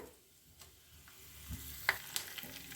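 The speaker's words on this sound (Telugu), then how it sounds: "ఆవాలు జీలకర్ర యాడ్ చేశాను కొంచెం వేగిన తర్వాత కరివేపాకు యాడ్ చేసుకుందాం" Mustard and cumin seeds sizzle and pop softly in hot oil, a steady quiet frying hiss with a few sharper crackles.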